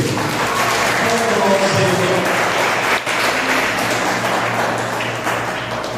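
A church congregation at a Baptist service claps together after a prayer, a loud, sustained burst of applause filling the room, with a low hum and a brief dip partway through.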